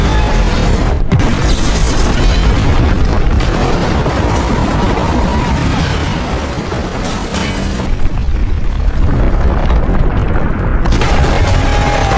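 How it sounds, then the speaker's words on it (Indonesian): A deep, loud boom of an explosion with a sustained rumbling roar and debris-like crackle filling the whole stretch, continuous and dense. "Bom meledak"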